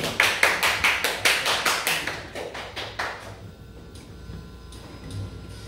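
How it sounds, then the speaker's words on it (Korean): A small audience at an acoustic guitar live show claps in a loud, steady rhythm of sharp, evenly spaced claps that thin out and fade after a few seconds. "박수 한번 주십시오"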